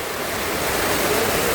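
Rainwater runoff rushing downhill after heavy rain on a deeply eroded slope, a steady broadband rushing flow, close and continuous without speech.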